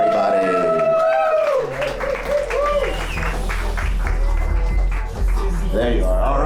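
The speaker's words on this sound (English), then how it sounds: "Put your hands together, ladies and gentlemen, for Ken." Audience applause at a live stand-up comedy show in Miami, cheering and clapping under a loud, amplified emcee voice and a heavy low rumble, with the crowd sound partly masked by the talk.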